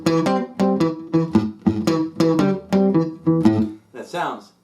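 Blues guitar lick played with double stops on the upper strings: a string of about eight plucked, ringing phrases at a steady rhythm, close and clear, with no voices.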